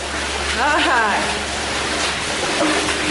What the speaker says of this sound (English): Splish splash, splish splash. This is a stream.